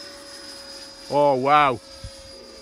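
A Freewing Typhoon 90mm electric ducted-fan model jet flies at full throttle, its steady high whine holding faintly in the background while a nearby man briefly exclaims over it.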